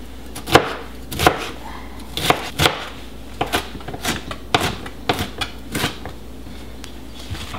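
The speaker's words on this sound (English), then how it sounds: "If you notice, I'm using that Santoku knife" A Santoku knife chopping vegetables on a board for black bean and corn salsa, giving about a dozen sharp, close, irregularly spaced chops with brief pauses between them.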